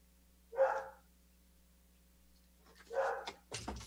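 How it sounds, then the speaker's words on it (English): A dog barks twice indoors, single sharp barks about two and a half seconds apart, moderately loud over a low steady hum, followed by a brief thump or rustle. "Sorry, there's a dog."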